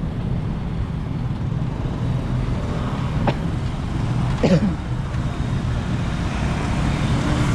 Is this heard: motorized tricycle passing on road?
yes